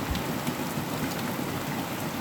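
Heavy rain pours down in Scotland and bounces off the ground, a steady dense hiss of drops hitting hard surfaces close by, loud and unbroken throughout with no voices.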